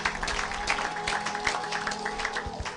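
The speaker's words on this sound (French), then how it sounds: "Acclamons pour la gloire de notre Dieu" A church congregation clapping together during a service, a brief burst of steady, moderately loud applause from a crowd.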